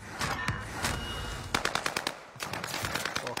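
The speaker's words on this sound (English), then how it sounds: "I'm getting shot by all angles. Where are you shooting me from?" Rapid automatic gunfire from a competitive video game tournament, with bursts of machine-gun-like shots in quick succession, a short lull, then another close, loud volley.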